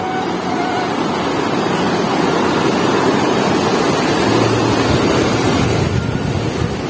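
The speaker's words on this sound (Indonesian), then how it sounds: "Sungai Cimanuk yang sekarang airnya sudah sangat besar, sahabat." The Cimanuk River running high with a large volume of water, a loud, unbroken rushing roar close by, mixed with wind buffeting the microphone and no voices.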